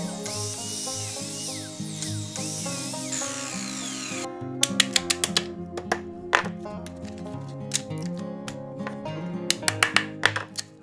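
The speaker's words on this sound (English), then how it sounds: "I break the small slices with the mallet" Mallet knocking out small slices of wood left between half-lap joint cuts, a run of sharp irregular taps after a stretch of machine whine, close and clear over steady background music.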